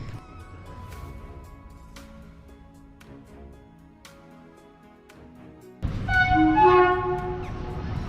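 Train at Alwar railway station: a low rumble of moving rail cars with tonal horn-like notes, then a sudden louder, brighter blast near the end.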